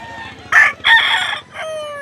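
A rooster crows at a busy chicken market in Lipa City, Batangas, loud and near, a sharp multi-part call that breaks off abruptly, over a low background murmur.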